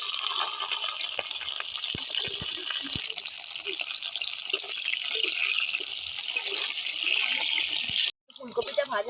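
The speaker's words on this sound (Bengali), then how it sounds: "এবার ফুলকপিটা ভেজে নেব।" Cauliflower frying in a pan for a Bengali vegetable dal, a steady loud hiss and sizzle of oil that runs without pause until it cuts out near the end.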